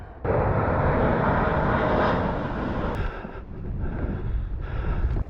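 A propeller airplane passes overhead above the English coast, a loud sustained engine drone that dips slightly midway and then swells again, with light wind noise.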